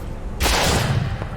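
Burst of gunfire in the video game Bioshock Infinite, a loud broadband volley lasting about half a second with a sharper crack trailing after, under continuous game ambience.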